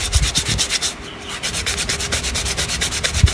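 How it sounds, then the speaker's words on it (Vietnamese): Sandpaper rubbed back and forth over hard lemon tree wood shaped into a slingshot, a steady run of close, rhythmic rasping strokes with a brief pause near the middle. "Rồi mình làm mình chà nhám cho nó láng cái nám này"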